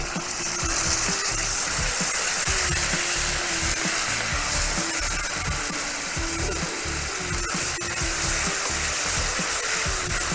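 Diamond-cut tomatoes fry in a pan for a wedding-style paneer and peas gravy. A steady, close sizzle and crackle of hot oil runs throughout, with a faint regular stirring texture and no talking.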